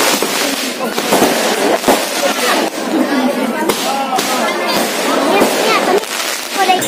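Fireworks set off at a wedding celebration after the Islamic marriage ceremony, crackling and popping in dense, repeated bursts for several seconds, with people talking underneath.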